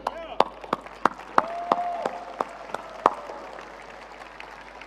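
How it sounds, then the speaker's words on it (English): Audience at a large crypto event clapping in sparse, sharp individual claps spaced irregularly, with a speaking voice running over them from a nearby microphone. "I believe all of the team of Vietnam and every believer in the concept deserves a warm round of applause"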